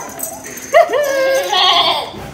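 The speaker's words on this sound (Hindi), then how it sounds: "फाइनली हमारा बकरा घर आ गया है" A male goat newly brought home bleats once, close and loud, in a wavering, nasal cry that lasts over a second. Faint background noise sits around it.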